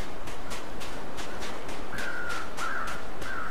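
Crows cawing repeatedly at a moderate distance over a steady wind-like ambience in the survival video game The Long Dark, with regular caws and a few higher calls toward the end.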